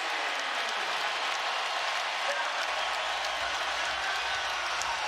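A basketball arena crowd at a 2015 Mavericks at Warriors game roars and cheers as the Warriors tie the score, a dense, sustained wall of noise that holds steady throughout.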